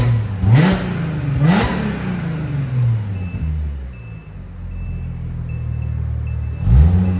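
A 2015 Audi S5 with a 3.0-liter supercharged V6 and cat-back exhaust revs loudly close by. Several sharp throttle blips rise and fall over a steady, deep idle rumble.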